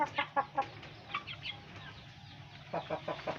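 Chickens cluck in short bursts as they are fed leftover table food in the morning, several close calls in clusters with brief pauses between, loud against a low background hum.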